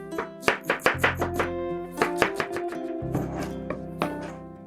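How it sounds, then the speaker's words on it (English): Two large onions are diced into cubes with a knife on a board, a quick run of sharp, close chops followed by a second burst of steady strokes, with no talk over them. "First, we chop 2 large onions into cubes."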